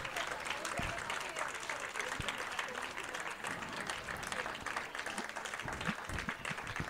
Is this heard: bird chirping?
no